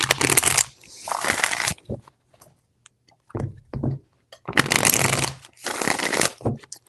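Tarot cards being shuffled in several loud, rustling bursts with quiet pauses between, close by and with no talking.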